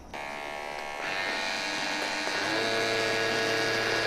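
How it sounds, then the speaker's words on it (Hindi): Three electric hair trimmers, Mi and Realme, buzz steadily together, a dense continuous whirring hum that grows slightly fuller as another unit joins, with no talking. "तो आप देख सकते हैं तीनों ट्रिमर को मैंने ऑन कर दिया है"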